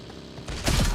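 Two heavy, booming bomb blasts erupt in quick succession in the game BGMI, the second louder and deeper, like explosions going off close by.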